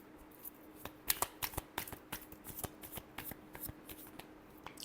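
Tarot cards are shuffled by hand in a rapid series of crisp riffles and slaps, close and quiet, with no talking.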